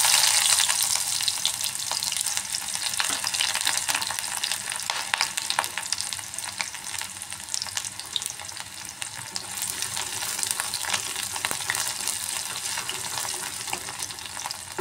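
Chopped onion frying in hot oil in a small wok, a dense, bright, continuous crackling sizzle with occasional stirring scrapes, close up and steady throughout without speech.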